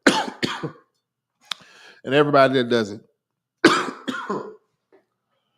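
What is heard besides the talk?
coughing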